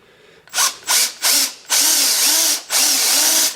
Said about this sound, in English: kind of get those centered like that, drill a hole